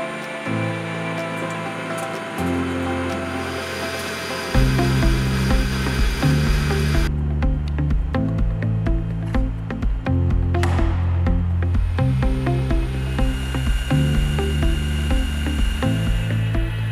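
A KNUTH V-Turn 410 universal lathe runs at constant cutting speed while turning a workpiece, giving a steady loud mechanical whir with layered motor tones that step up partway through and continue with faint ticks and clatter.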